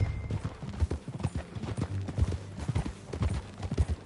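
Horse hooves clip-clop in a steady, close rhythm in Red Dead Redemption 2, a horse walking along without any voices over it.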